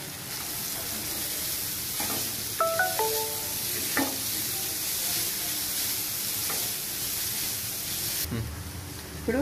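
Onions fry in a pan as green chillies and carrot pieces go in for a masala dosa filling, a steady close sizzle with a few clinks and stirring scrapes.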